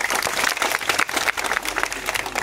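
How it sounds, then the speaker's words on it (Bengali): An audience at a party rally marking a 45th founding anniversary claps in dense, continuous applause, loud and sustained throughout. "আমরা তার করতালির মধ্যে দিয়ে বরণ করে নেব।"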